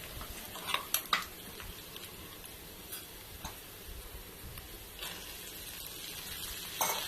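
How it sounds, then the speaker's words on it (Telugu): Curry of broad beans and peanuts frying under a lid in a home kitchen pan, a quiet steady sizzle with a few small clinks and ticks of the lid and utensils. "సో కాసేపు మూత పెట్టి ఫ్రై అవ్వాలి"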